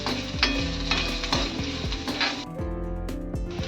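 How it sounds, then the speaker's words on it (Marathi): Onion frying in a pan over a high gas flame for a suran vegetable dish: close, steady sizzle with repeated scraping strokes of a spatula stirring, and no talking. "कांदा मी भाजून घेतला. गॅस माझा फास्टच आहे."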